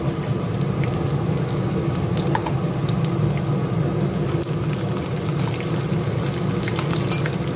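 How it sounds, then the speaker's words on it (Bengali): Peanuts frying in a pan of oil, a loud, dense, continuous crackling sizzle like steady rain, with small pops and clicks scattered throughout. "বাদামটা প্রায় ভাজা ভাজা হয়ে গিয়েছে, খুব ভাজবো না।"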